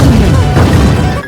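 Film sound effect of an explosion destroying an island: a loud, close, booming crash with heavy low rumble and scattered debris crackle filling the whole short burst.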